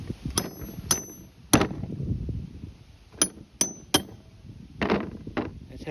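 Metal hammer strikes against a tool stuck on the front wheel hub of a 2001-05 Kia Rio, sharp ringing clangs at irregular intervals, close and loud with no talk.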